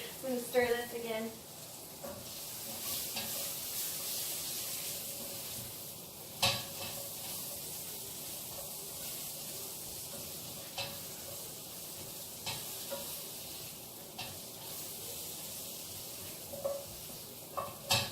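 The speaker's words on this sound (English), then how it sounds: "I'm going to stir this again." Food sizzles steadily in a pan while a spoon stirs it, with occasional scrapes and clinks against the pan, close and moderately loud, and a voice speaks at the start.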